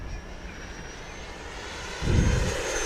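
An XFLY Sirius 80mm electric ducted-fan RC jet at full throttle gives a steady whine, then a sudden louder rush as it sweeps past close by.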